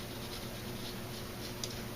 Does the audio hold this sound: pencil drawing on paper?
yes